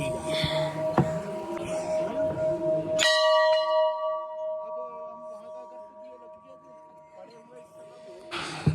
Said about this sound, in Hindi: ये बजी घंटी।